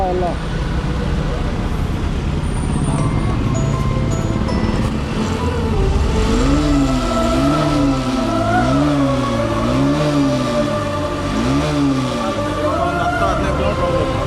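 A motorcycle with a starting fault, one that starts but won't rev and cuts out in gear, idles unevenly and then rises and falls in repeated revving swells, close and loud, with traffic noise in the background.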